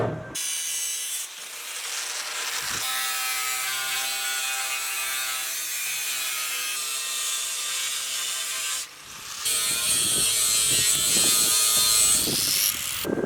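An angle grinder with a 5-inch wheel grinds aluminium: a harsh, continuous grinding whine runs for several seconds, pauses briefly, then resumes rougher and louder, close by.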